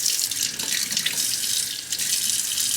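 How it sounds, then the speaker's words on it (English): Tap water runs steadily into a cooking pot, a continuous close, bright gush of flowing water with no speech. "Right, I'm gonna add some water"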